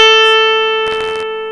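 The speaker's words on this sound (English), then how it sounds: "So naturally it's made the sound quite loud because it is distortion" A steady, buzzing distorted electric guitar tone sustains loudly, with a brief burst of rough, crunchy noise near the end.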